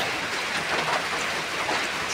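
Steady rain falls with a light breeze, a continuous even hiss of drops close by with no talking.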